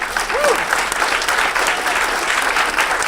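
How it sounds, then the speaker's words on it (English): Loud, sustained applause from an audience at the PRACTICE 2013 game design conference, a thick, even roar of clapping that carries on steadily with no break. "I love your applause, though."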